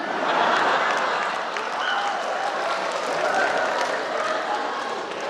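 Sustained, loud crowd applause at a comedy show in Aceh, a dense even wash of clapping throughout with faint voices and shouts underneath.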